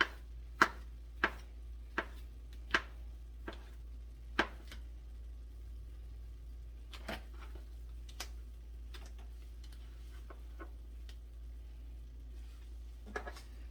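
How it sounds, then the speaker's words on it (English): Knife chopping food on a cutting board in a home kitchen while cooking a romantic dinner: sharp, evenly spaced taps, about six in the first few seconds, then sparser, fainter cuts over a low steady hum. "And I'm just cutting it up."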